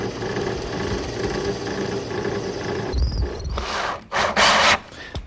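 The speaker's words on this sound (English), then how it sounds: "up above I want to drill a hole for the carriage bolt to go in" A power drill bores a hole into wood for a carriage bolt in a chop saw station build, starting with a low whir before a sharp, high squealing burst and a couple of louder grinding pushes near the end.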